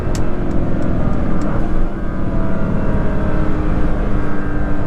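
A Chevrolet Corvette ZR1 at very high speed fills the recording with a loud, steady engine roar and wind rush from inside or close by, barely changing throughout.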